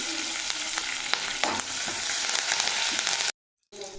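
Chana dal, green chillies and curry leaves fry in hot oil, a loud steady close sizzle with crackling pops and a brief stirring scrape, cutting out abruptly to silence before resuming.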